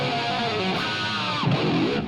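Electric guitar played through a Line 6 HX Stomp effects unit, a sustained processed tone with layered, slightly distorted chords ringing steadily throughout at a loud level.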